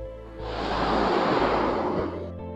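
Ocean surf washes onto a seashore in a single broad, steady rush of noise that swells and holds for a couple of seconds, close and loud with no voices.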